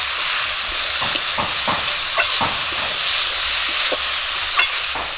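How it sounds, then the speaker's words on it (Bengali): Cumin and garlic paste fry in a pan with a steady, close sizzle and hiss, broken by intermittent scraping taps of a spoon stirring. "জিরে আর রসুনটা দিয়ে হালকা একটু ভাজা করে নেব।"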